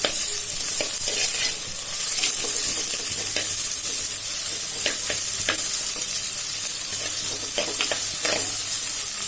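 Onions sautéing with a pinch of salt in a pan for a chicken and capsicum gravy, a steady close sizzle with occasional stirring scrapes throughout, no talking.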